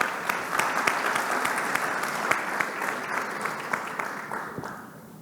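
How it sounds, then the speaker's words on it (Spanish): An audience at a panel discussion on childhood and adolescence claps to welcome a vice minister of health, a full burst of applause with sharp individual claps that gradually thins and fades out. "Vamos a recibirla con un aplauso,"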